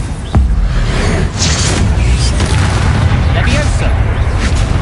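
A Depulso spell is cast in the Hogwarts Legacy video game, a heavy booming blast with a sharp onset that rumbles on densely amid constant loud combat noise.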